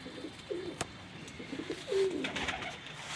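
A pigeon coos softly in a few short, low phrases, close by and quiet, with no talking.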